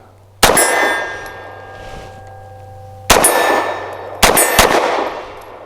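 An Arsenal Strike One pistol fires three loud shots at steel targets, each sharp crack followed by a ringing clang that decays slowly, with two quick shots near the end after a longer pause.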